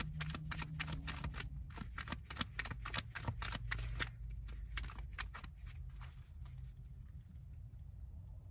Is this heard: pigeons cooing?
no